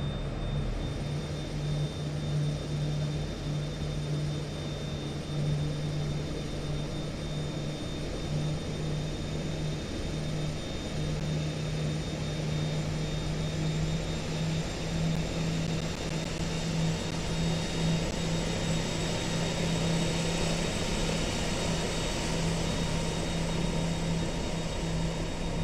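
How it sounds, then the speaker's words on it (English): A Dreamfoil EMB-110 twin-turboprop airliner taxiing in the X-Plane 10 flight simulator, with a steady droning propeller hum and a thin high turbine whine holding constant throughout, even and unbroken with no voices. "We can release our parking brake, and we'll taxi over to 1 left today."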